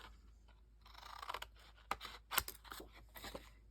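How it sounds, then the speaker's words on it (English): Scissors snip diagonally across a paper corner, a few soft, close crunching cuts with rustling paper between them, quiet and alone. "cut off the square in the corner at a diagonal."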